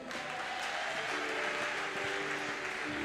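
Congregation at a church worship service applauding, a steady wash of clapping that fills the room, with faint tonal sounds underneath.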